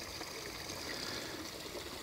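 Water flows along a small creek branch after heavy rain, making a soft, steady trickle and burble throughout with no voices.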